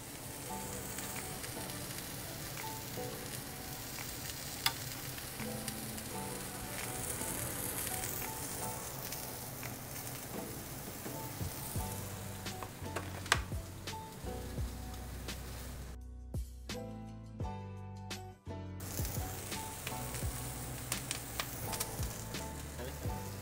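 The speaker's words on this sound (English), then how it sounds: "So now we're gonna add to the pork our rosemary, thyme, and butter." Pork sizzling in a hot pan with butter, rosemary and thyme as it is basted, a steady bright frying hiss with crackles and spoon scrapes running throughout, near and loud with no talk.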